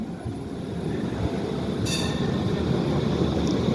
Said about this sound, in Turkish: 903 nolu tren her iki Türk mahallesine de bak bu gelen 903